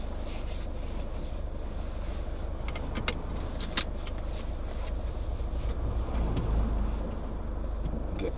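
A 2007 Peugeot 807 2.0 HDi diesel people carrier sets off on a drive, its steady low engine rumble and road noise filling the cabin, with a few light clicks and a jangle of keys over it.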